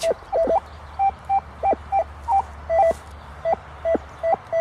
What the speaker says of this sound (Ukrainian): Тут ми вже поняли, сигнал є.